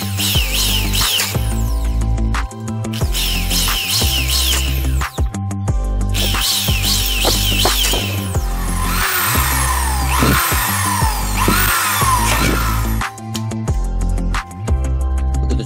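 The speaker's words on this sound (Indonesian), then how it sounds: "Selanjutnya kita bor untuk penempatan skrup." A power drill whirs loudly in repeated bursts, revving up and down as it bores screw holes for mounting a sliding door rail, with short pauses and some rattling between runs.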